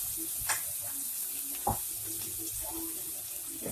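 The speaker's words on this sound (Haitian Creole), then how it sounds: "Mettons un petit de l'eau." Water runs and trickles into a pot of Haitian legume with finely mashed vegetables, a steady soft pouring with a couple of brief knocks, close and moderately quiet with no talk.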